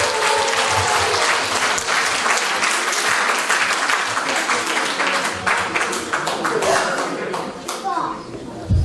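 Loud, sustained applause from an audience at a community talent show in Baden-Baden, greeting a Jewish community team coming onto the stage; dense clapping runs steadily through the whole stretch with faint voices mixed in.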